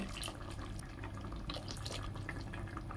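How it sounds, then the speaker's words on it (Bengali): Hot water is poured into a pot of cooking khichdi, a close, continuous splashing and trickling of liquid lasting a few seconds. "আমি জল গরম করে রেখেছিলাম, গরম জলটা দিলাম"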